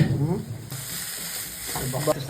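Urad dal sizzling in hot oil in a pan for tempering gives a close, bright crackling fizz that swells and dips over a couple of seconds, with a faint voice underneath.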